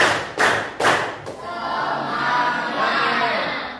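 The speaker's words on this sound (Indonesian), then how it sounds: "Tepuk tiga." Students of a 7A class clap together on cue, three loud sharp claps in quick succession followed by a sustained burst of classroom crowd noise.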